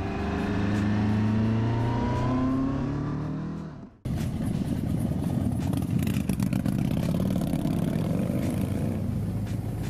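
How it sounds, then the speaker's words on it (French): A running Kawasaki motorcycle engine, first a steady droning idle with layered harmonics that fades briefly, then a loud, rough, clattering run that holds strong to the end without any talk. "il y a aussi le bruit du moteur que je trouve quand même un peu léger"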